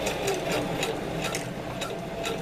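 A domestic sewing machine runs a steady stitch across a cargo strap. It makes a continuous mechanical whir with a fast, even rhythmic chatter, close and fairly loud, and no voice is heard.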